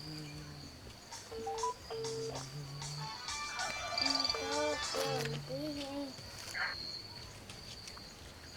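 A telephone being dialed produces a series of short electronic keypad tones at irregular intervals, some steady and some stepping in pitch, over a quiet room background.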